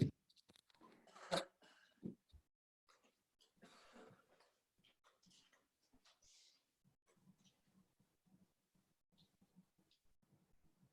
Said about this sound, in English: I hope that's not a COVID cough